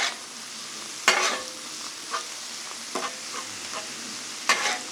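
Onions, bacon and peppers hit ground beef on a griddle, a steady sizzle broken by several sharp scraping and clattering strokes of a spatula, no voices.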